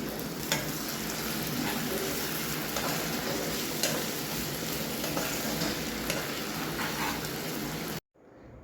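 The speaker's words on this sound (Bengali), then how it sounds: "তো ওটা দেবার পর ভালো করে মিশিয়ে নিচ্ছি এখন" Chicken curry masala with turmeric, chili powder and Kashmiri chili powder being stirred in a pan, a dense continuous frying sizzle with faint scraping, cutting off abruptly near the end.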